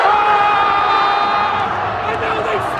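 A stadium crowd roars steadily as Macedonia beat Italy, a dense, loud mass of voices with sustained chanting tones running through it.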